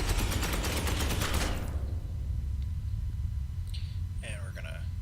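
Rapid automatic gunfire from the video game Space Hulk: Ascension rattles loud and dense for about a second and a half, then breaks off into a low rumbling background, with a brief voice near the end.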